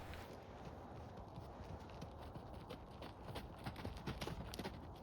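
Arabian horse trotting loose, a quick run of muffled hoofbeats on soft ground heard at a moderate distance, steady and rhythmic over faint outdoor background.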